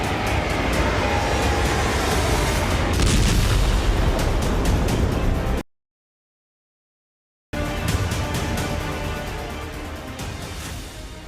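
Loud, sustained explosion blast from an IL-76 transport plane over Belgorod, a dense rumbling roar broken by a brief gap of silence before the heavy roar resumes and slowly fades.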